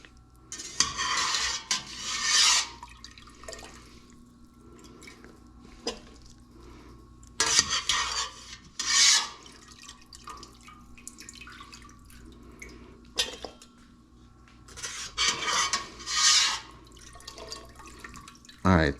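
Chicken stock ladled from a pot and poured through a small strainer makes bursts of splashing, trickling liquid and clinks of metal utensils, separated by quieter stretches, with speech at times.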